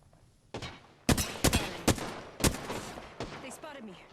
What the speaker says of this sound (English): So with the flatline, I'm just basically just tap firing, just shooting them